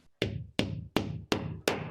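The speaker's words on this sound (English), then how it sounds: "So then we push the plug into the hole and tap it home." A wall plug is tapped into a drilled hole in a wall while hanging a shelf: five sharp, evenly spaced knocks in under two seconds, close and clear with no talk.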